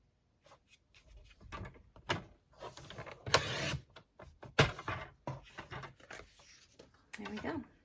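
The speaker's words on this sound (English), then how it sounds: "that is all that we need to do with our trimmer" A paper trimmer slices cardstock with a series of quiet, close sliding and clicking strokes that come in short, uneven bursts.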